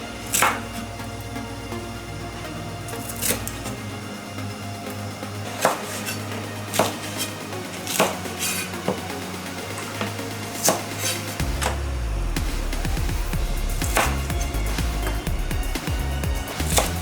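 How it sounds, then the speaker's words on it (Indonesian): Green vegetables are chopped into small long pieces for special fried noodles (bakmie goreng), giving sharp, regular knife knocks on a cutting board over a steady background hum, with no talking. "sayur hijau dipotong kecil secara memanjang"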